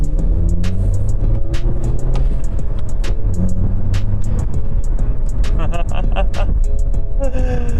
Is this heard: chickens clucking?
no